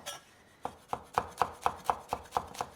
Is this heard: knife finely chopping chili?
yes